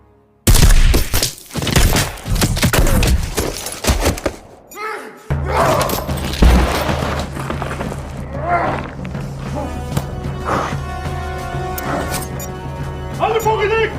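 Gunfight from an action film about a sniper against heavily armed terrorists, with a dense burst of loud gunfire and impacts at the start, followed by rumbling action sounds and music under a narrating voice.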